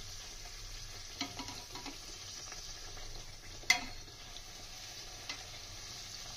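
Peas kochuri fry in hot oil in a kadai, a faint, steady sizzle and bubble, broken by a few soft clinks and one sharp tap of a utensil against the pan.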